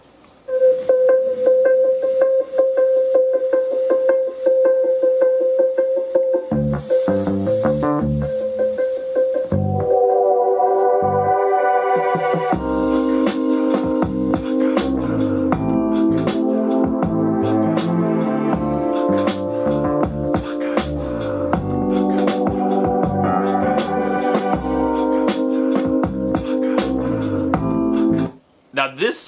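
Song plays through Jamo C91ii bookshelf speakers, a sustained tone opening into full music with vocals and steady rhythm, fairly loud throughout.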